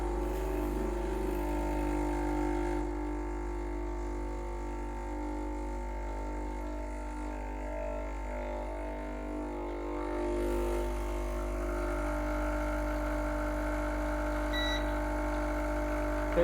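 A Breville Duo Temp Pro BES810 espresso machine brews coffee, a steady pump hum with a low mains drone and faint electronic tones, continuous and close, with no talk over it.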